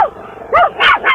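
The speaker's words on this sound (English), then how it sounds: "The dogs really agree with that one." A few dogs bark in three loud bursts near the microphone, each bark ringing with a bright tone, with no talking over them.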